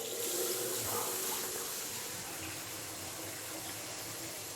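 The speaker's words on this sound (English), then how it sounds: "I'll switch on the basin just so you can see it coming out for a moment." Basin tap running with water flowing out through the sink drain, a steady broadband gush held at an even level throughout, close and fairly loud, with no voices.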